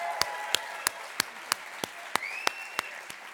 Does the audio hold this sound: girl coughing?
no